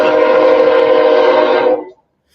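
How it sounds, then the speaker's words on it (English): A nearby train passes with its horn sounding loud and steady for nearly two seconds, then it cuts off abruptly. "You got a train nearby."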